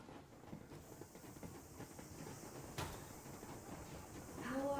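A steam locomotive train rolls along in the video game Metro Exodus, a continuous rumbling, hissing ride with a brief louder burst midway and rising noise toward the end.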